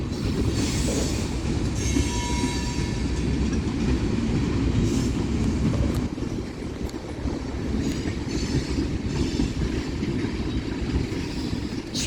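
A BNSF mixed freight train with Burlington Northern boxcars rolls past at Central Avenue, a loud, close, continuous rumble of wheels on rails with rhythmic clickety-clack joints and faint squealing, easing slightly midway then carrying on.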